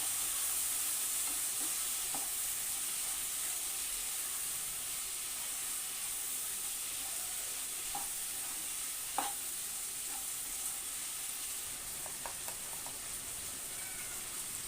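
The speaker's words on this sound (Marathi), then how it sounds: "आता आपली मसूर डाळ घालून झालेली आता आपण हे ना मिक्स करून घ्यायचं" Masoor dal being stirred in a pan for masoor pulav, a soft steady sizzling hiss with a few faint spoon clicks and scrapes scattered across the stretch, no voices.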